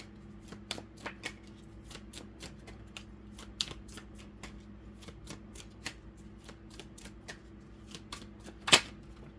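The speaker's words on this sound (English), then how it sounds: "let me pull one more card" Tarot cards being shuffled and pulled: a run of quick, crisp riffling flicks and soft slaps in irregular bursts, close and quiet, ending in one sharper snap of a card.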